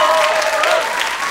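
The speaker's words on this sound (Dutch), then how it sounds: "Laten we Francisco nog even een heel groot applaus geven." Loud applause from a church audience for a preacher, a brief, dense burst of clapping with a voice and a tonal sound running through it.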